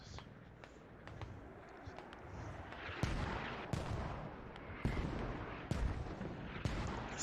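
Mortar rounds exploding on the Gorodok map in the tactical shooter Squad, with several sharp, heavy blasts landing about a second apart over a steady rumble of battlefield noise.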